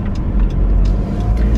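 Road traffic on the way to London rumbles past nearby, a loud, continuous low engine drone with the whoosh of vehicles going by and no talking.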